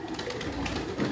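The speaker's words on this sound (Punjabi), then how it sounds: "ਲਓ ਜੀ ਇੱਕ ਹੋਰ ਹੈ ਕਬੂਤਰ ਅਬਾਸ ਮਹਿਰ ਸਾਹਿਬ ਦਾ ਕਬੂਤਰ" Teddy (tiari) pigeons at a rooftop breeder's loft give a steady low cooing, close and continuous, with faint background noise and no talk.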